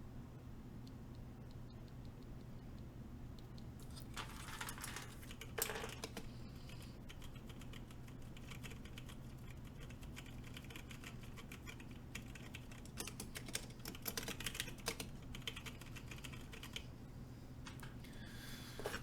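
Typing on 1UP Keyboards B Sun Brown mechanical switches: soft, muted keystrokes tapping in irregular runs and clusters over a steady low hum, fairly quiet and close.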